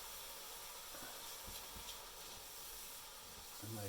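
Steady, soft hissing and sizzling of yakisoba noodles steaming in a pan with a little added water, with faint clinks and low background murmur.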